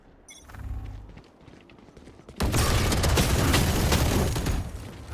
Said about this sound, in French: Attention. Explosion.